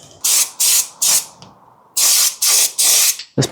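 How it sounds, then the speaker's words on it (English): An aerosol can of bitumen underbody coating sprays onto a Land Cruiser wheel arch in six sharp, loud hissing bursts of about half a second each, separated by short pauses, with a clunk at the end. "I'm basically going to overdo it on the bitumen spray while I have the chance"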